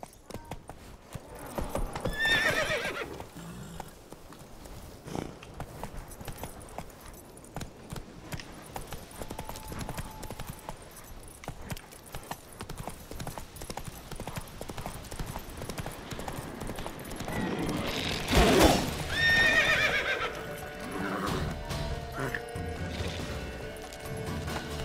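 In The Witcher 3, a horse's hooves clip-clop at a steady rapid gallop, with two loud whinnying neighs, one early and one later near the end.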